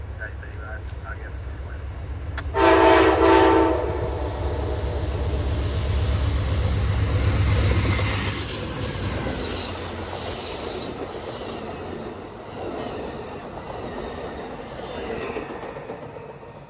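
The Amtrak 50 eastbound Cardinal passenger train passes close by with a loud horn blast, followed by long rumbling wheel noise, squealing and clickety-clack rail sounds as the cars roll past, with voices talking over it.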